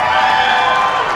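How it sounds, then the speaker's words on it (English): A big live crowd at an X Games Austin Call of Duty: Ghosts esports match roars with loud, sustained cheering and whoops, filling the space from start to finish. "That's a big cheer."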